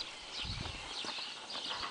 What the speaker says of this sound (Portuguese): Esses são cavalos.